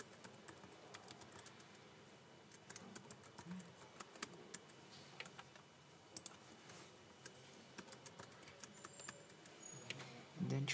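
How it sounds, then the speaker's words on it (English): Typing on a computer keyboard while entering an email address: quick, irregular soft key clicks at close range, a steady run of taps with light background hum and no talking. "Type in your email address."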